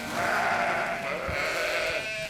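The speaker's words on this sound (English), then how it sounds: "Sheep!" Sheep bleat on a regenerative farm in Melville, Prince Edward Island, in a loud sustained chorus of overlapping calls close by, with softer bleats behind them.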